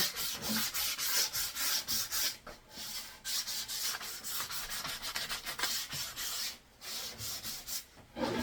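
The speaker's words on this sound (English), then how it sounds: "Let's just sandpaper down here" Sandpaper rubs over a wooden house sparrow nest box in quick rasping back-and-forth strokes, close and steady with a few short pauses, and no talking.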